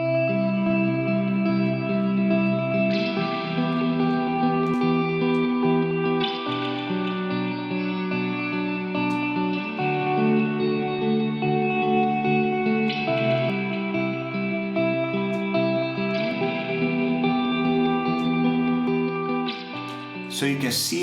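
Sustained harmonic music chords change every few seconds, washed in reverb with a low filter first bypassed then switched on, playing continuously without voices.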